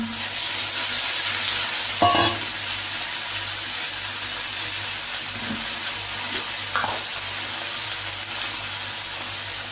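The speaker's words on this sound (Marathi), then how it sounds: "हे भिजवलेले चना डाळ व शेंगदाणे टाकत आहे." Soaked chana dal and peanuts sizzle steadily in a hot pan while bathua saag is cooked, with a couple of brief stirring clinks breaking the even hiss.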